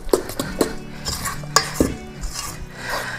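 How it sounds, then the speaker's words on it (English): Spatula scraping zucchini bread batter off the sides of a pan, a series of short scrapes and clinks against the bowl in an irregular rhythm, close by and moderately loud, with no talking. "I keep scraping the sides so there's nothing dry stuck to the side of the pan."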